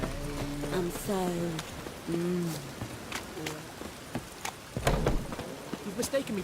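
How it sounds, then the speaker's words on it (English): Steady rain falls in The Witcher 3 video game, a soft broadband hiss that runs under voices talking, with a few louder splashes and thumps near the end. "Rain, I like rain."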